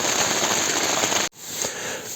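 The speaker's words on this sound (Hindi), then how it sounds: "बारिश को बाहर से देखा जाए या टेंट में ही बस साउंड्स एंजॉय किए जाए" Rain heard from inside a tent on a solo hike to the Barah Lakes in Gilgit Baltistan, a dense steady patter on the fabric that cuts out abruptly, then returns softer.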